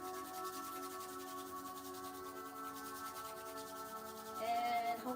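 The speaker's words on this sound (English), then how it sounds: "Rub your palms together again," Palms rubbing together fast during a guided breathwork meditation, a continuous soft friction hiss under gentle background music, growing a little louder near the end.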